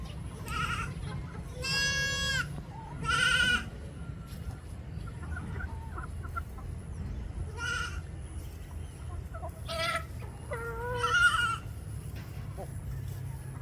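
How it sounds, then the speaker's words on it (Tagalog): Several goats bleat in a series of wavering cries over a steady outdoor background, with chickens faintly clucking nearby. "Yan po yung ating mga kambing."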